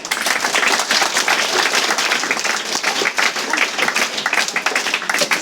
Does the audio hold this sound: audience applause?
yes